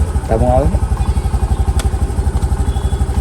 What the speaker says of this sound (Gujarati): રઉભા આવી ગયા છે આપણને લેવા, એક્ટિવા લઈને આવ્યા છે